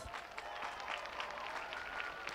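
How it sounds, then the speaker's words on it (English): A crowd at a high school graduation ceremony claps in steady, dense applause from start to finish, moderately distant and even in level, with no voices standing out. "Let's give them a round of applause."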